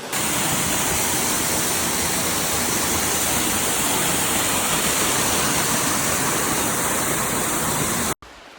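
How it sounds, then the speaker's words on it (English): Waterfall at Pam's Grotto roars as a loud, steady, full wash of falling water that continues unbroken until it cuts off near the end. "Getting the waterfall."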